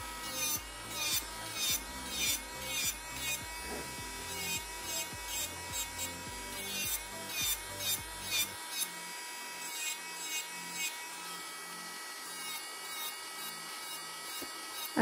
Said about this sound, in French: donc on va limer sur les côtés.